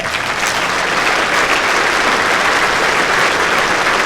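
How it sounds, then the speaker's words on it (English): An audience applauds at the 2015 World Bowls Championship, a dense, even wash of clapping that holds steady throughout with no voices over it. "Keep your applause going for both our competitors."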